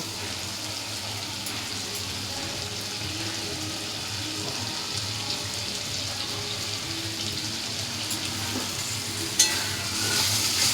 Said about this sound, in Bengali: এগুলোকেও ভালো করে আমি গ্রেভিটার সাথে একটুখানি কষিয়ে নেবো কড়াইশুটিগুলোকে দেখো